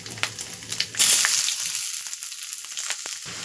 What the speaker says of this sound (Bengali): এই সময় আমি দিয়ে দেবো পেঁয়াজ কুচি।